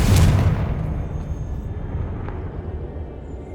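The Confringo fire spell explodes in Hogwarts Legacy, a loud deep booming blast that hits at once and then rumbles and decays slowly over a few seconds.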